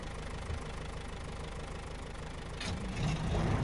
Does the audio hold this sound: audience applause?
no